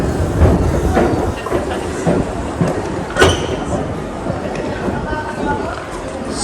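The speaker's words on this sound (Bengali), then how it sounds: "তো এখানে সব ট্রেনই ইলেকট্রিক ট্রেন, অনেক দ্রুত যাতায়াত করতে পারবেন।" An electric train in Copenhagen rumbles steadily with rail clatter and a brief louder clunk midway, a continuous rolling noise close by under faint background chatter.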